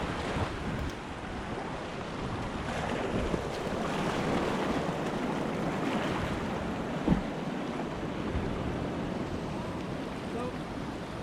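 Whitewater rapids at the U.S. National Whitewater Center heard while kayaking, a dense continuous rush of churning water mixed with wind buffeting the microphone, loud and unbroken throughout.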